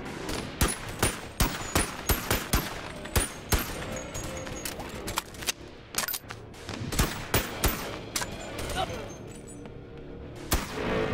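Handgun fired in the VR game Boneworks, a long run of sharp, loud shots in quick irregular bursts, continuing steadily throughout.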